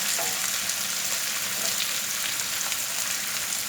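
Sliced onions sauté in hot oil in a pan while a subji for chapati is cooked, giving a steady, close, dense sizzle with no break, with no voices over it.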